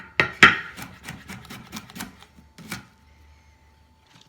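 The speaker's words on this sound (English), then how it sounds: "This is me tearing up broccoli. I just tear apart the little florets." Broccoli florets torn apart by hand: a series of close, crisp snapping cracks, two sharp ones early and softer tearing snaps after, then a quieter stretch.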